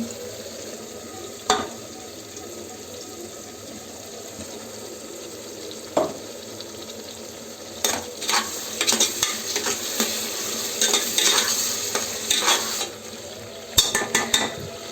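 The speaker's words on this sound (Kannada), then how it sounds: "ಚೆನ್ನಾಗಿ ತಿರುಗಿಸಿ ಚೆನ್ನಾಗಿ ಬೇಯಲು ಬಿಡಿ." Ground masala being stirred and fried in a pan for vegetable pulao, with a steady sizzle and scattered scraping spoon strokes and clinks against the pan, growing busier toward the end; no talking.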